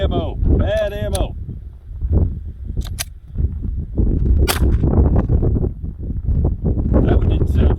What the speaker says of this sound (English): my Glock and I had a SQUIB loaded with some bad ammunition